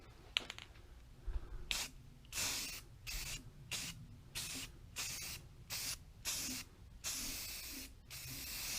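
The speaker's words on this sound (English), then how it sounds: "Let's see if we can burn through our first can of rust reformer." Repeated bursts of rust reformer paint sprayed from a freshly shaken aerosol can, about a dozen short hissing blasts in steady rhythm with brief gaps between them, close and fairly loud, no voices.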